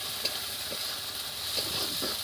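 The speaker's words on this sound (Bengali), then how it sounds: "এবার আমি কাঁচা টমেটো দিয়ে দেবো" Raw tomatoes dropped into a pan of frying chicken, giving a continuous hissing sizzle close by with a few soft stirring scrapes.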